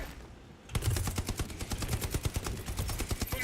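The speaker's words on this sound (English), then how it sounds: "the machine gun is just like swiping across his head" Machine gun turret in a video game firing a long continuous burst of rapid, evenly spaced shots, loud and close after a brief quieter moment at the start.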